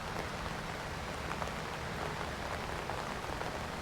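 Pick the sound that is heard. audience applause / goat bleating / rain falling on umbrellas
rain falling on umbrellas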